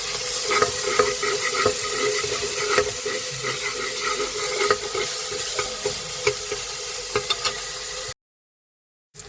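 Onions with ginger garlic paste fry in a pan, a loud continuous hissing sizzle with frequent scraping stirs, close up and without speech, then dropping out to silence near the end.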